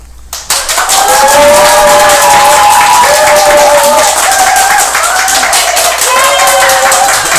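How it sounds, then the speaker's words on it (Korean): A large crowd of political campaign supporters at an outdoor rally in Busanjin-eul, Busan, roars and cheers loudly and continuously, with clapping mixed in; the dense noise holds steady for several seconds after an abrupt start. "이렇게 많은 분들이 크게 함성 질러주시는 것도 처음이고"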